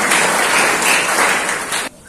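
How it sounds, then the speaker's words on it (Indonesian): Church congregation applauding after a healing testimony during a worship service: dense, steady clapping at close range, loud throughout, then cutting off abruptly near the end. "Beri tepuk tangan."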